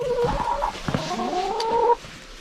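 Chickens in a snowy winter chicken run cluck and call close by in a steady, drawn-out run of squawks lasting about two seconds, with no talking.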